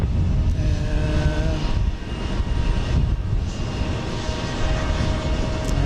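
A United airliner at Houston Intercontinental airport roars steadily with a broad, continuous engine rumble, loud and sustained, with a faint whine riding on top and no voices.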